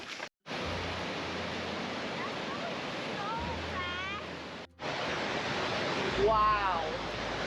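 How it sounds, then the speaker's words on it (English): Roaring waterfall at Willow River State Park in Wisconsin, a steady broadband rush of falling water that runs nearly the whole time, briefly cut out twice, with some faint chirping sounds riding over it. "You can just hear the power coming from the fall."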